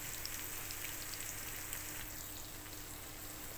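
Prawns fry in a pan with a steady, even sizzle and crackle that holds constant throughout, fairly quiet and with no voices.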